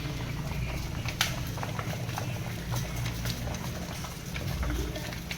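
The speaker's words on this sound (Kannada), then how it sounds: "ಇದು ನೀರು ಕುದೀತಾ ಉಂಟು." Water boils in a pot on the stove while homemade dark chocolate is being prepared, a steady low bubbling and gurgling with occasional small pops.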